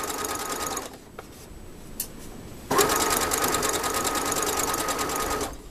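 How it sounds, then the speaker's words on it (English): A sewing machine stitches fabric for a tote bag, loud and close with a steady rapid needle rattle that halts briefly, then resumes and runs on before stopping. "I back stitch a couple of times, and then I sew off the fabric."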